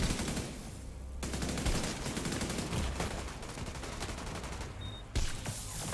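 Sustained rapid gunfire in The Division 2 hardcore mode, dense automatic bursts rattling almost without pause, loud and close, with a brief gap before the shooting resumes.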